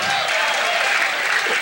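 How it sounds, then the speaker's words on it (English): Steady applause from an arena crowd at the 1992 U.S. Open 9-Ball final after a pool shot, a dense, even wash of clapping at constant loudness throughout. "The crowd is really applauding that shot"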